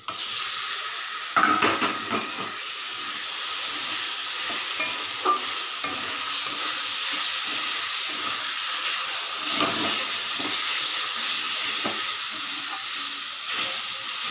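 Fish pieces drop into hot oil and a cooked spice paste, setting off a loud, continuous sizzle and hiss with the scrape of stirring now and then, close and steady with no talking.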